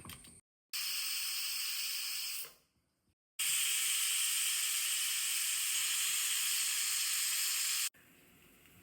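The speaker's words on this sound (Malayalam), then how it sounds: "നമ്മുടെ കുക്കർ മൂന്ന് വിസിൽ അടിച്ചു കഴിഞ്ഞു" A pressure cooker on a Kerala kitchen stove, cooking drumstick-leaf soup, lets off loud, steady steam whistles in two long bursts, the second lasting several seconds, with quiet gaps between.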